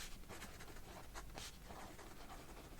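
Pen scratching across paper in quiet, close strokes, a few brief bursts of writing separated by pauses, soft and intimate with no talking.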